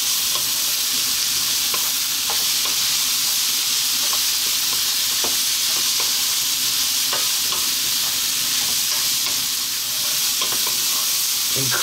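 White and red cabbage stir-fry in a hot pan with garlic and ginger, giving a steady, dense sizzle and hiss throughout, with light scraping and tossing clicks scattered over the frying.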